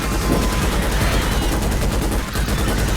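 Rapid automatic gunfire from the Starship Troopers: Extermination video game, a dense continuous barrage of shots running the whole time with no pauses.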